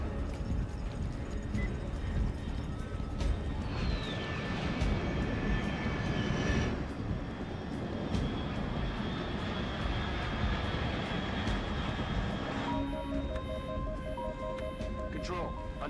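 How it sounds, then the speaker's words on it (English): An aircraft engine drones overhead in Metal Gear Solid Delta: Snake Eater, a loud continuous roar with a descending whine partway through, heard under game radio voices and beeping signal tones. "Unidentified aircraft detected."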